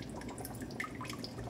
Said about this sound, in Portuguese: A água gomosa sai